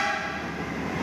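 An electric KRL commuter train rumbles steadily past at close range at a station, a continuous low mechanical hum with a brief horn-like tone riding over it.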